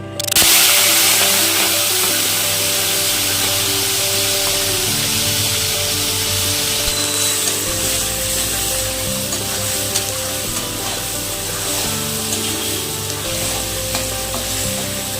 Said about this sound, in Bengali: তেল গরম হয়ে গেছে, প্রথমে চিংড়ি মাছগুলো ভেজে নেব